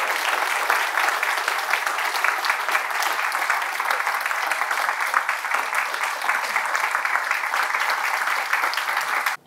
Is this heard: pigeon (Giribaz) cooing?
no